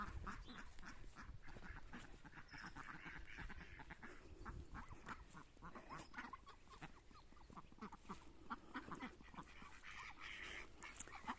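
Hungry ducks quack in a steady, busy chorus outdoors, mixed with clucking fowl, the noisy calls overlapping continuously at moderate distance.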